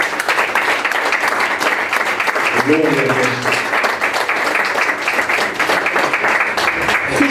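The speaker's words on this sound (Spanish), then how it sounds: "Denle un aplauso a nuestro Señor, por favor" Church congregation applauding in praise during a Spanish-language service, loud sustained clapping across the whole stretch with a voice calling out over it.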